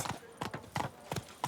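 A horse in The Witcher 3 plods through a town at a walk, its hooves sounding a steady clip-clop of about four close, hollow strikes on hard ground.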